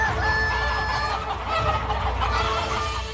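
A black, glossy Kadaknath rooster clucks and crows loudly and close, its calls running steadily over a dense farmyard background with no talking.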